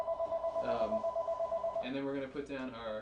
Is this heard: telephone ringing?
yes